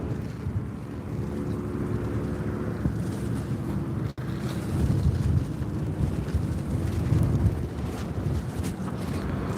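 Wind blowing hard across a beach at sunset, a steady low roar with buffeting gusts on the microphone, running without a break and no talking.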